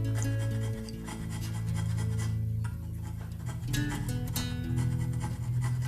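A metal hand scraper drawn in rhythmic strokes across the metal parts of a wooden jointer plane during tuning, producing a continuous raspy rubbing and filing sound, close up and steady.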